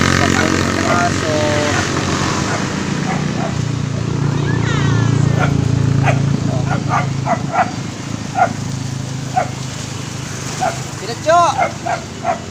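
A dog barks in short, repeated yaps scattered through the clip, some sharp and close, over a steady low engine-like drone, while people talk throughout.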